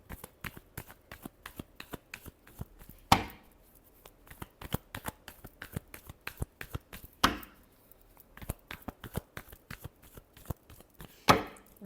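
Tarot cards are shuffled by hand in rapid, crisp riffles. Quick flicking slaps come in a steady stream, with a louder full riffle-and-bridge burst about every four seconds, close up and with no speech.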